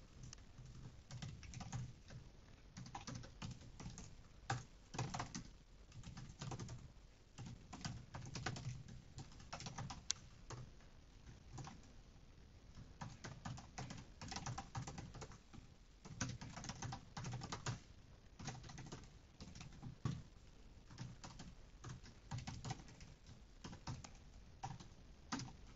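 Steady typing of code on a computer keyboard, a quiet, close patter of keystrokes with small irregular bursts and pauses, with no voices.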